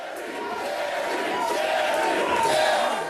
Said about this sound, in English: you hear the chanting of the crowds, the cry that started an entire genre of daytime TV